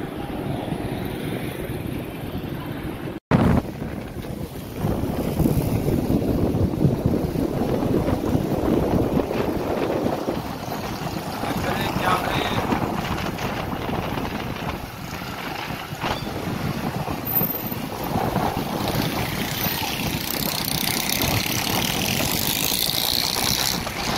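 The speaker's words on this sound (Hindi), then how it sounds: "ठीक ठाक आंधी चल रही है इस वक्त" A strong windstorm roars steadily over a rooftop in Karachi, a continuous loud rushing broken early by one sharp knock, with gusty swells throughout.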